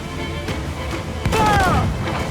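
A single heavy cannon boom from a sailing warship in Assassin's Creed IV Black Flag, loud and close, followed by a brief ringing tail, with faint shouting voices around it.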